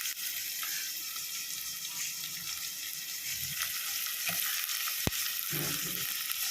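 Onions sautéing in a pan for a fish curry, a steady bright sizzle and crackle throughout, close by, with a few soft stirring knocks and one sharp clink near the end.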